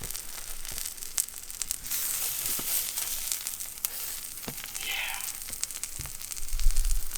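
An egg and cheese sandwich crisping in a hot pan gives off a steady close sizzle and fry crackle, with a few soft pops and scrapes and a bit of rustling near the end.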